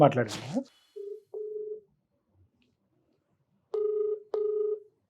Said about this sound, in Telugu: సార్ సుప్రియ కాల్ చేయండి.